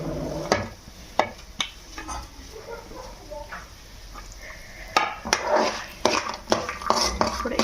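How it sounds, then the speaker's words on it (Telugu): White sesame seeds and spices are roasted in a pan for a ridge gourd chutney, with sharp metallic clinks and scraping of a spatula over a dry, gentle rustle, close by. "కలర్ మారే వరకు వేయించుకుందాం."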